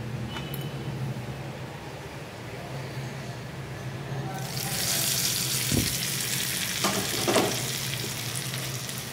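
Hot oil tempering with red chillies and curry leaves is poured into a coconut-style chutney for Mysore bonda, sending up a sudden loud sizzle midway that hisses on steadily, with a few clinks of a spoon.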